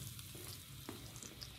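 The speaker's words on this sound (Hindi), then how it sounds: "तड़का हम इस दाल में डाल देंगे" A hot tadka tempering hits a pot of mung dal with a loud, continuous sizzle and crackle of frying, close up, with faint stirring and no voices.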